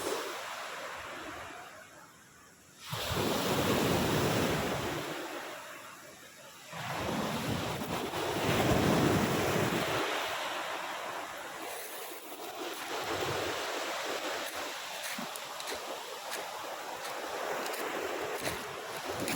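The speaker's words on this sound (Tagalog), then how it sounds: "Medyo maalon nga lang yung dagat at kita nyo." Rough sea surf washing onto a beach in Sablayan, Mindoro, with broad waves of noise rising and falling, mixed with steady wind buffeting the microphone close up.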